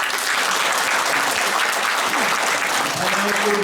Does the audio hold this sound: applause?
yes